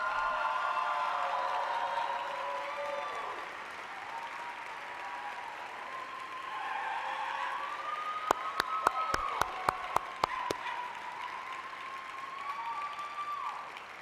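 Applause from the audience at a College of Creative Arts graduation ceremony, a sustained wash of clapping with a siren-like tone wailing through it and a quick series of sharp claps partway.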